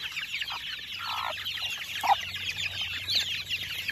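Chicks cluck and peep in a busy, continuous chorus while being fed cold leftover rice, with scattered brighter calls over a low steady hum.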